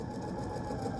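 Sewing machine stitching fabric along a drawn line: a brief, steady mechanical whir with fast, even needle ticking, close and continuous for about a second.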